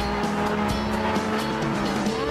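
Car sliding sideways in Trackmania Wii: a steady, loud engine drone with wavering pitch and a layer of tire noise as the car drifts, continuous throughout without pause.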